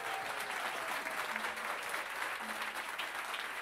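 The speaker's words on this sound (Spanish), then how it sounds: "un aplauso para este tremendo equipo de Sala Máster" A studio audience claps for the production team at a televised music show, a continuous, even round of applause that holds steady throughout at a fairly low level.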